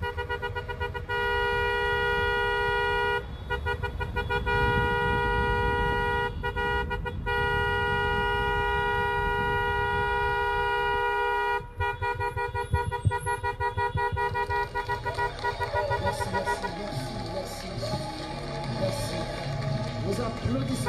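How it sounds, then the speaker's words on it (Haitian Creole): Car horns honk at a street demonstration in Montréal, with sustained blaring tones broken by short gaps, then a busier mix of toots and crowd voices as people talk. "Klaxon, klaxon."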